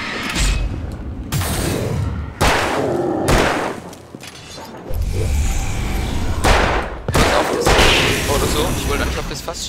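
Gunfire in the video game Alan Wake, several loud sharp shots and booms in quick bursts with short gaps between them, while someone talks over the action.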